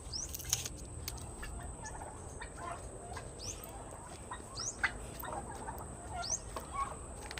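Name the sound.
pet turkey gobbling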